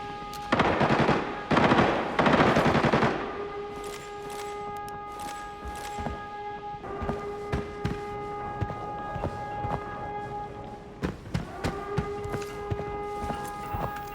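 Gunfire from Arena Breakout rattles in loud bursts at the start, followed by scattered single shots and footsteps under a steady background hum.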